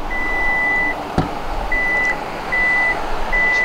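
Toyota RAV4 2.0 Hybrid G power liftgate opening, sounding a series of four loud, sustained electronic warning beeps evenly spaced, with a sharp click near the start and quiet hum beneath.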